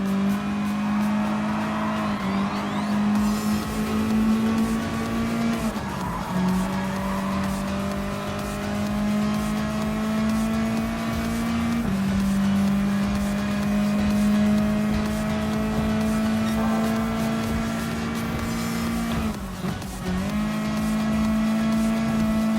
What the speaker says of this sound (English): passing on the official Mazda Atenza Gr.4, giving a little more time to slide it in. Pass that McLaren 650S.